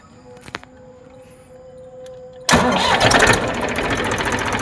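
A farm tractor's engine cranks and catches abruptly, then settles into a loud, steady diesel run close by, with a few faint knocks before it starts.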